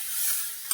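Grated coconut and sugar stirred in a pan over low heat, a short steady scraping hiss with one small knock near the end.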